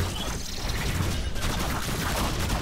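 Repeated shotgun blasts in the Warframe video game, loud and dense, firing back to back over a busy low rumble of game action.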